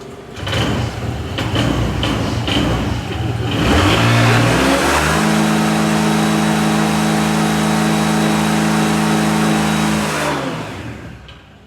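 A small scooter engine, just after clutch work, sputters to life, then settles into a steady droning idle and rev for several seconds before cutting off.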